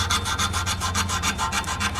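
Emery cloth scuffing the friction surface of a rear brake shoe on a Gen 2 Toyota Tundra, a steady rapid back-and-forth rasping of about a dozen even strokes, close and loud with no talk.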